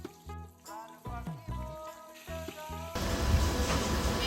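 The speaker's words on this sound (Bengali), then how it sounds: "ভাজা শেষে আমি ম্যারিনেট করা মাংসগুলো দিয়ে ভালো করে নেড়ে চেড়ে নিলাম" Marinated meat hitting a hot pan and being stirred, a loud, dense sizzle that bursts in during the last second or so after a stretch of tonal music.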